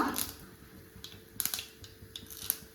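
Mustard seeds splutter in hot coconut oil in a pan, making faint, scattered crackling pops at an irregular pace, with no voices.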